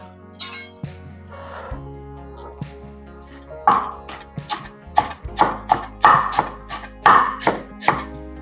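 Parsley chopped with a knife on a board in a home kitchen, a run of sharp, close knocks that start sparse and then settle into a quick, steady rhythm.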